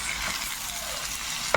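Chayote and carrots tossed into a pan of browned onion and garlic give a steady close sizzle and frying hiss, with a sharp clatter of stirring near the end.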